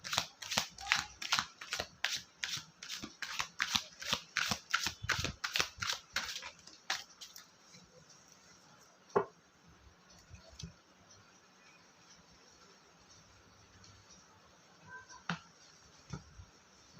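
A tarot deck is shuffled in a quick run of crisp card riffles, then goes quiet apart from a few scattered soft taps and slaps as cards drop onto a surface, all close and fairly faint.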